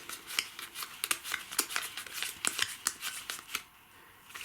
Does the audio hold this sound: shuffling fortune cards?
yes